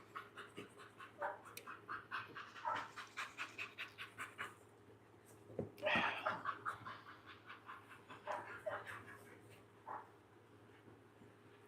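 Dogs pant in rapid rhythmic bursts, close by, with a brief scuffle and a few breathy whines mixed in over a low steady hum.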